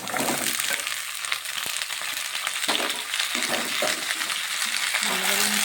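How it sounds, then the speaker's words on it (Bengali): Vegetables tipped into a pan of frying fenugreek seeds, raising a steady, loud sizzle and crackle with scraping stir sounds throughout, close up and without talk. "এখন আমি সবজি দিয়ে দিচ্ছি।"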